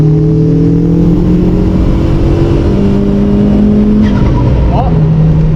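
A Volkswagen Golf driven hard in third gear, its engine droning and climbing steadily in pitch as it accelerates, loud and close inside the cabin, with a brief squeal near the end.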